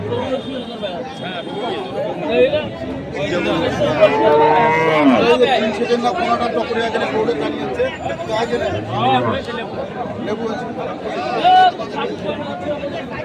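Beef bulls and other cattle moo at Ranibandar cattle market in Dinajpur, with a few loud low calls rising over constant nearby talk and crowd chatter.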